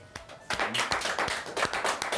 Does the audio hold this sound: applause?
yes